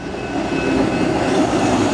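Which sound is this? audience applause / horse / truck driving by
truck driving by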